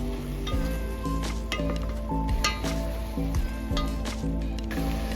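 Carrots and mixed vegetables, with mushrooms already sautéed, stir-fry in a pan, giving a soft, continuous sizzle broken by wet squishing and tossing sounds. Background music plays throughout at a moderate level.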